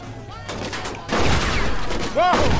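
Automatic rifle fire in the video game Mafia 2 erupts in loud, close volleys that build toward the end, with a voice briefly heard over the shooting.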